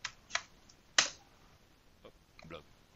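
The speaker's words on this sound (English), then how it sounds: "let's type a number randomly" A few sharp key presses on a computer keyboard as a number is typed at random, three louder clicks followed by softer taps spread across a few seconds, fairly close.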